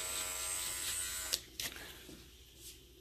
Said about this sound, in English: Using the corner of this trimmer to create these shapes